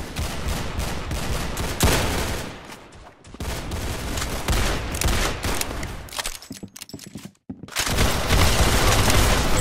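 Dense bursts of gunfire in the Roblox shooter Arsenal during a Christmas event, loud rapid volleys that pause briefly and then resume at full intensity.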